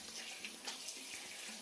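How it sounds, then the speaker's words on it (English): Water runs from a shower at home, a close, steady splashing hiss with slight fluctuations throughout and no talking. "about time to take shower."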